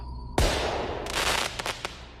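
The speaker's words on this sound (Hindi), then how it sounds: "एक बहुत ही जोर के धमाके की आवाज आई" A firework rocket explodes with one sharp, loud bang inside a ruined temple, followed by a rumbling wash of echo and a few smaller crackling pops as the blast fades.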